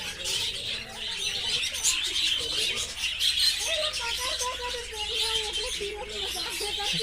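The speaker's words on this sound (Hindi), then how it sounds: "रंग बिरंगी बजरीगर।" Colourful budgerigars in a zoo aviary chirp and twitter continuously in a bright, busy chorus of overlapping calls, fairly close, with other birds mixed in and a person talking faintly underneath.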